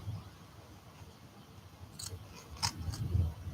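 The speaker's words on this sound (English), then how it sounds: "These scissors have seen better days." A few quick snips from worn scissors, close and fairly quiet, clustered near the end over a low background rumble.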